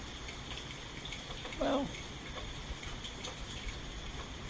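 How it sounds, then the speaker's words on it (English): Steady rain falling during a severe storm, a constant dense wash of patter throughout, with one brief spoken word partway through. "hear that rain? Yep, it's raining."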